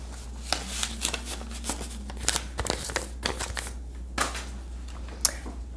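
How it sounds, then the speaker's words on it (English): Paper cash bills being handled and stuffed into a savings envelope, giving close, uneven rustles, crinkles and short flicks of paper with no talking. "So I won't be able to color those on camera, but I'm still gonna stuff the envelope."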